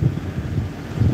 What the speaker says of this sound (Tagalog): Lakas ng hangin dito sa labas.